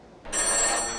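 An old 1950s telephone at the Connections Museum in Washington rings with a bright, loud bell that starts abruptly and holds for most of a second, with no voices.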